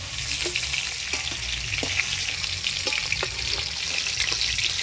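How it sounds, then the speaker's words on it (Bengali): A fish head frying in hot oil in a home kitchen, a constant dense sizzle with scattered sharp pops and crackles, close and loud, with no talking. "মাছের মুড়াটা ভালোভাবে ভেজে নিলাম।"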